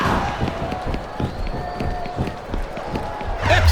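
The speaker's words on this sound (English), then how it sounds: "This capacity crowd is solidly behind their superstar." A capacity wrestling arena crowd in the SmackDown vs Raw 2007 video game keeps up a steady cheering roar under rhythmic thumping ring movement, with a surge of noise at the end.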